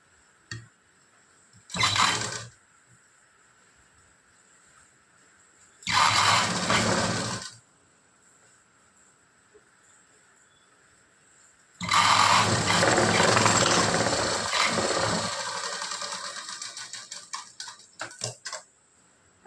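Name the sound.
sewing machine stitching a blouse yoke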